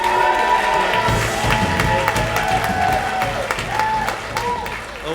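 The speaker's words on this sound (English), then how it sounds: "how about a big round of applause for our next comic, Steve Duval" A comedy club crowd gives a loud round of applause with cheers and whoops for a comic taking the stage, the clapping dense and close, with excited voices rising over it.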